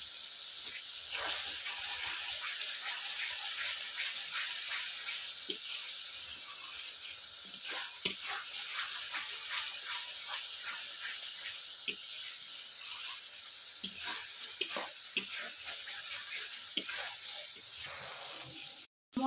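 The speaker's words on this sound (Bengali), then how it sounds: "ভালো করে মশলাটা কষিয়ে নেব।" Spice masala for a soybean curry sizzles and fries in oil in a pan as a steady soft hiss, with occasional scraping clicks from stirring, faint and continuous.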